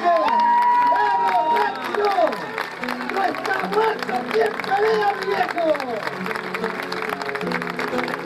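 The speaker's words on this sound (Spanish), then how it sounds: "La emoción, el aplauso que surge de los cuatro costados." A crowd at an Argentine jineteada rodeo in Alcaraz, Entre Ríos, claps and cheers loudly and continuously while an announcer shouts over the noise.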